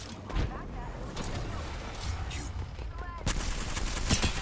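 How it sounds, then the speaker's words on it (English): Gunfire in a shooter video game rings out in repeated bursts, with sharp cracks and rapid volleys through the clip and a heavier round of shots near the end. Players talk over the shooting. "Bro is really shooting us from a heat shield."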